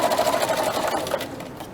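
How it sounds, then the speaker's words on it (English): A sewing machine runs a quick back stitch, a close, steady, rapid mechanical whir and chatter that slows slightly toward the end. "I'll start sewing, back stitch"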